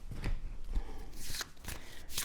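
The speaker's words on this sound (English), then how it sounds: "So now we have to shuffle." Decks of cards being shuffled during a Star Trek: Captain's Chair board game session, with several quick riffling bursts close up at a steady, moderate loudness.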